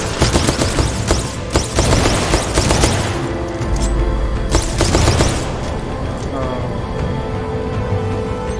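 Gunfire from a homing auto-aim gun in the game Titanfall 2 on hard difficulty: dense, loud bursts of rapid shots and booms that come in waves and later ease into steady background combat noise, with a voice talking over it.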